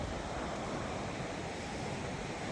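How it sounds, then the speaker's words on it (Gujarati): Sea waves wash onto a clean, open seashore where bathers are out in the water, giving a steady, unbroken roar of surf that holds an even level throughout, with no voices heard. "દરિયા કિનારો."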